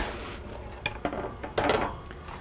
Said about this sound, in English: I'm ready now to cut into my pizza